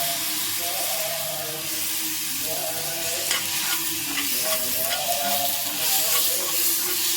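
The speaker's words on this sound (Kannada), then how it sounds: "ಸೊ ಈ ಟೈಮಲ್ಲಿ ನಾನು ಇದಕ್ಕೆ ಟೊಮ್ಯಾಟೊನ ಆ್ಯಡ್ ಮಾಡ್ಕೊತಾ ಇದ್ದೀನಿ." Onion and tomato fry in a pan, a steady close sizzle with repeated scraping strokes of a stirring spoon, no voices.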